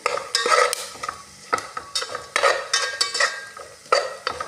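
A pan of vermicelli-style frying for sheer kurma gets stirred in quick bursts, each stroke a scraping rasp over a soft sizzle, close and clear with no talking.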